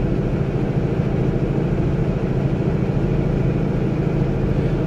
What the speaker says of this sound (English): Maybe you can hear the engine through the dash cam